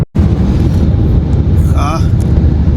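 A car cruising along a highway at night produces a steady low engine and road rumble with a constant broad hiss of tyre and wind noise, close and loud, carrying on evenly throughout with a brief tonal beep near the end.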